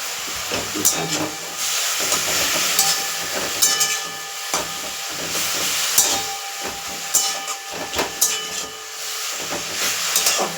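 Leafy greens frying in mustard oil in a pan give a steady, fairly loud sizzling hiss with scattered pops and clicks of stirring throughout.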